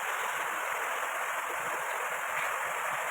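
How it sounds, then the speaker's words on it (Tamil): Water pours from the mouths of lion and elephant statues in a newly built artificial waterfall, a steady close rushing splash without pause and without talk. "சிங்கம் ஆனை வாயிலிருந்து தண்ணி விழுகிற மாதிரி நீர் வீழ்ச்சி"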